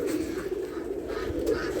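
Soft cooing from racing pigeons, low and murmuring, continues over the short stretch with faint background noise.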